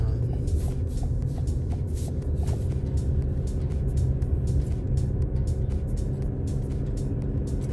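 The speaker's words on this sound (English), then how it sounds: "I'm driving a little slow right now." A 2021 Toyota RAV4 moves slowly along a wet road, with steady low tyre and engine rumble plus a continuous hiss of spray, heard from inside the cabin.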